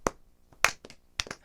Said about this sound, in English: Slow here. clap, everyone.